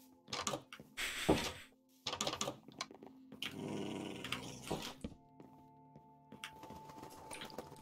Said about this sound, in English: Punch me, my dog attacks.